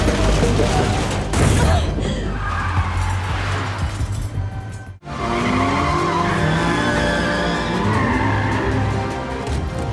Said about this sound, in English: when we get later on in the car sequence, we're talking about dragging cars around